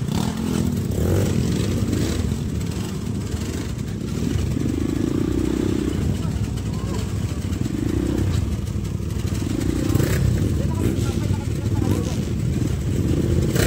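A large motorcycle with air let out of its tires, stuck at Kinaw Falls, revs hard in repeated surges over a constant rumbling engine, with people talking nearby.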